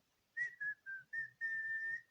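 A clear whistled melody of five short phrases, the last one held longer, bright and close, with faint soft accompaniment underneath.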